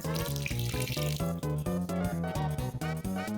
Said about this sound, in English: they say you can just grow a garden by pouring water in the ground